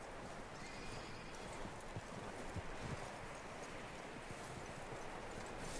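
Horse hooves clip-clop in the Red Dead Redemption video game, a soft, continuous patter of hoofbeats beneath a steady noisy bed of outdoor ambience, faint and even throughout.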